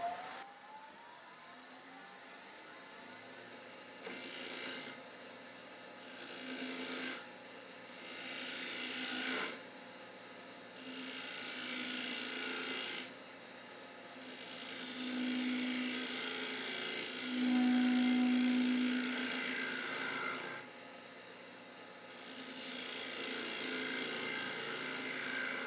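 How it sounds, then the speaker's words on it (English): A wood lathe turns a dome shape into a 2x4 tea light holder, with bursts of raspy cutting and scraping alternating with the lower steady hum of the spinning lathe between passes. "we're going to turn this middle to our dome"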